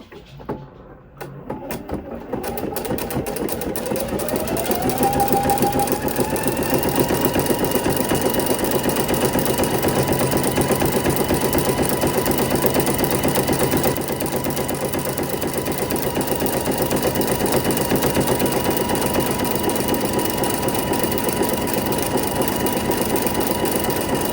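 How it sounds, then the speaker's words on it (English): A sewing machine stitches across a cut seam in a fleece blanket with satin trim, spinning up quickly after a few hesitant starts into a steady, close, rapid whirring hum that runs on evenly for the rest of the clip. "we're going to sew across this seam that I cut"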